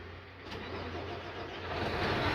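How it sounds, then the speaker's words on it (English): An engine on a machine with a low oil pressure warning turns over and starts, settling into a steady medium-pitched running hum that grows slightly louder. "So I'm going to start the machine."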